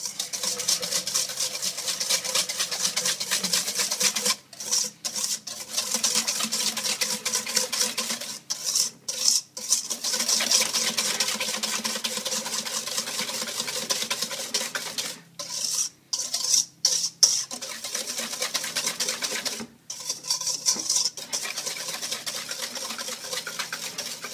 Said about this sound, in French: Prenez un fouet et mélangez les 3 ingrédients énergiquement.